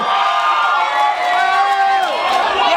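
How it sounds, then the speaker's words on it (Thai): Loud, close crowd cheering and shouting at a Muay Thai fight, a continuous roar of many voices with rising whoops and yells. "ขอเสียงการเชียร์แฟนบอลหน่อย"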